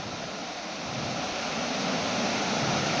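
Ruhat waterfall near Ratanmahal pours in a steady, close rushing roar, a dense unbroken wash of water noise that swells slightly louder toward the end, with no voices.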